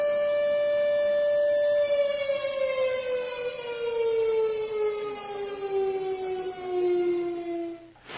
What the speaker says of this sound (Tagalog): Ang sirena ng pamahalang bayan pinatunog para maabisuhan ng mga residente na maghanda.